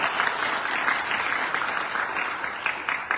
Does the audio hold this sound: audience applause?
yes